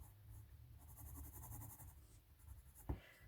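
A soft 3B pencil scratches and scrubs across paper in loose sketching strokes, a faint steady rasp with a small tap near the end, quiet and close.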